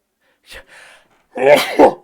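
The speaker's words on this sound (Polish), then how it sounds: "zaraz kichnę" A person sneezes close to the mic, a brief sharp intake and breath followed by a loud, forceful sneeze burst with a vocal edge.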